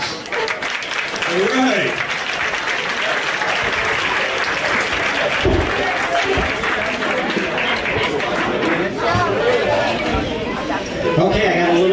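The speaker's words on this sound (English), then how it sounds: "Round of applause." Audience applause at a Tampa Bay Trump club meeting, a dense sustained clapping from a room of people that fills the whole stretch, with a voice briefly speaking over it and crowd chatter mixed in.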